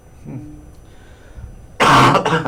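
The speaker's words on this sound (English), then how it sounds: "I'm coughing a lot today." A loud, close burst of several harsh coughs breaks a fairly quiet stretch, running rapidly for under a second before trailing off.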